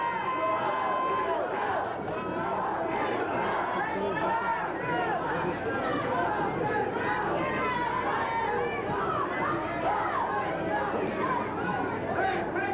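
A wrestling arena crowd roars and chatters continuously, a dense steady babble of many voices trying to rouse a downed wrestler during a Stampede Wrestling match, with a commentator talking over it.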